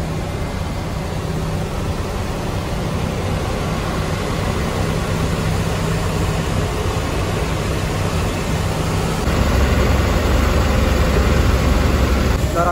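A car cruises fast on a highway, with a loud continuous engine and road drone. It grows slightly heavier and deeper toward the end, and nobody speaks.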